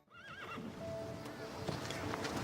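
A horse neighs with a quick, wavering whinny, then its hooves clip-clop steadily nearby while a muffled voice murmurs faintly underneath.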